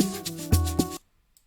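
Short amapiano beat snippet with the retro color and filter effects removed, a few punchy kick and chord hits over about a second before cutting to silence, bright and dry.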